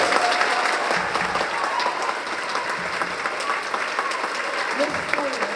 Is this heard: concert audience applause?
yes